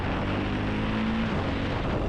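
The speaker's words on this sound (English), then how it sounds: "It has a very good thumping sound to it. You really don't need to buy another exhaust system for this bike." A Ducati Hypermotard 698 Mono single-cylinder motorcycle exhaust drones loud and close, a steady engine roar with a faint tonal line through it.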